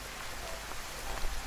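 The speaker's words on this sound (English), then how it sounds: "It's raining." Steady rain falls in the Genshin Impact video game, a continuous soft hiss of drops spread evenly across the whole moment with no voices over it.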